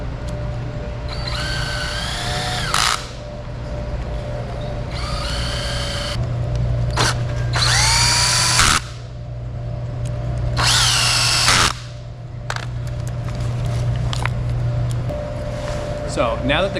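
A power drill drives cross screws into the clamps of a Selden torsion line on a code zero sail. The close, loud motor whines in several short bursts of rising and falling pitch over a steady low background hum.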